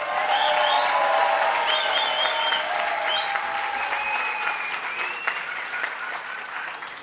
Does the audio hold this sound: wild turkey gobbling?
no